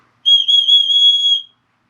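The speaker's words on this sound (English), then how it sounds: "Looks like a knife, and it's loud. Get you a whistle." A Ka-Bar emergency whistle, shaped like a knife, blown once in a loud, piercing, high-pitched blast lasting just over a second, close and alone against silence.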